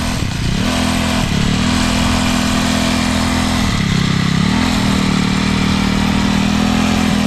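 SYX Moto MK40 4-stroke dirt bike engine running loud and close, a steady droning hum with a brief dip and rise in pitch partway through, and no speech.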